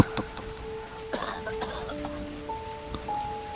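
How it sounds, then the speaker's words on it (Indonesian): A man coughs repeatedly somewhere outside a room on a rainy night, part of a horror radio drama. The short, muffled coughs sound at intervals over a steady rain-like hiss and sustained soft tones. "Iya, suara lelaki yang batuk-batuk"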